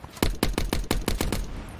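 Rapid bursts of gunfire in a battle royale game, about eight sharp shots in a steady rhythm, loud and close, then trailing off without voices.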